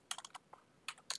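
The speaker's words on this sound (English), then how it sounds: "I'm going to type an IP address of" Computer keyboard keys tapped while entering an IP address for router configuration, several short quick bursts of clicks close by with brief pauses between them, no voices.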